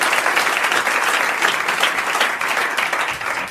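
Studio audience at a French television talk show bursting into loud, sustained applause, dense and continuous throughout.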